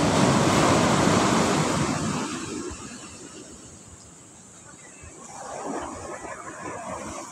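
Sea waves break on Sagareshwar Beach at Vengurla on the Konkan coast. A loud wash of surf fades into a quieter lull, and then a second wave swells up near the shore.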